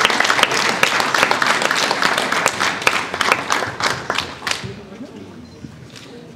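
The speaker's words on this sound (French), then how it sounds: "Je vous remercie de l'applaudir quand même s'il est là." Applause at an award ceremony for a literary prize: a dense burst of audience clapping that thins out and fades after a few seconds, leaving scattered claps and quiet room noise.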